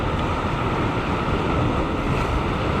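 Strong ocean waves crash and surge without a break at a sea fishing spot at Yena Point in Kurnell National Park, Sydney. The loud, dense roar of surf is mixed with wind noise on the microphone.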